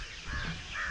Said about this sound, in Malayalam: കിളികളുടെ ആ സൗണ്ടും അതൊക്കെയാണ് ഈ സ്റ്റേഷൻ്റെ പ്രത്യേകത.